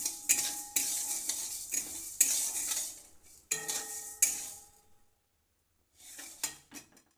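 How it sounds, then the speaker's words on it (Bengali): Two kinds of lentils dry-roasting in a hot, oil-free wok, stirred with a metal utensil: close, repeated scraping strokes over a soft sizzle, with a short silent pause before the stirring resumes. "কড়াটা একটু গরম হয়ে গেলে দু রকম যে শুকনো খোলায় এই ডালটা দিয়ে দিলাম।"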